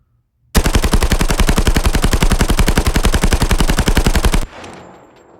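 AK rifle in Call of Duty Mobile fires a long, steady full-auto burst of rapid, evenly spaced loud shots lasting about four seconds, then stops abruptly and leaves a fading echo.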